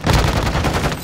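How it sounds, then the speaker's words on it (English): Rapid burst of video game gunfire, loud and close, a quick string of shots running through about a second with no talk over it. "Oh, I got shot from behind, from the front."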